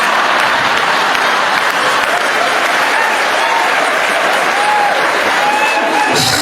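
A comedy show audience claps loudly and continuously, a dense wash of many hands that holds steady throughout and picks up slightly toward the end.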